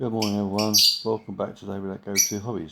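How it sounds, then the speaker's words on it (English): Birds squawk and chirp outdoors in the background, brief bursts that sit behind someone speaking a greeting close to the microphone. "Right, you have to excuse the birds."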